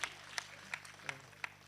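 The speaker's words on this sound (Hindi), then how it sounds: "एक बार ताली बजाओ जरा जोरदार।" A few audience members clapping at a Hindi poetry gathering for Kargil Vijay Diwas, five sparse, evenly spaced claps over a quiet room rather than full applause.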